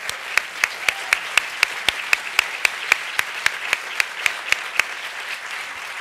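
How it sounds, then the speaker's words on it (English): Audience applause at an education action agenda event, with a few sharp, distinct claps standing out at a steady pace above a broad, even bed of crowd clapping that lasts throughout. "How about applause for that?"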